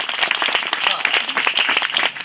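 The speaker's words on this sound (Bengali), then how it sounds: "আসলে আমরা জোরে প্রভু উদ্দেশ্যে হাততালি দিই।" A church congregation at a revival meeting claps together in quick, dense rhythmic bursts that fill the whole moment, with a faint voice mixed in.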